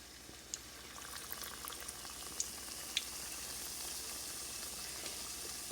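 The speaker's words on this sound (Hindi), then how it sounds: "तलने के लिए हमने तेल गरम कर लिया है और ये हमने पकौड़े दरमियानी आंच पे यानी दरमियानी फ्लेम पे हमने पकने के लिए छोड़ दिए हैं।" Pakoras deep fry in hot oil over a medium flame for karhi, a faint, steady bubbling hiss broken by a few sharp little pops, with no talking.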